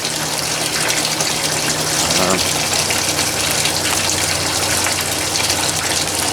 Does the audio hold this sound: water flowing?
yes